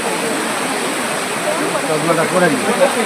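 A waterfall roars as a constant broadband wash of falling water at a temple site, steady and fairly loud, swelling slightly toward the end.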